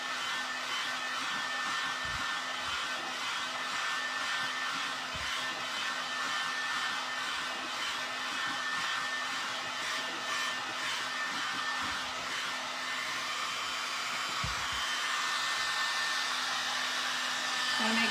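A hair dryer drones steadily at close range, drying paint on a wooden wine box, a constant whining blow that holds for the whole stretch with slight fluctuations.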